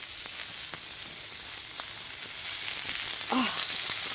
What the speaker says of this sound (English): and I'm able to barbecue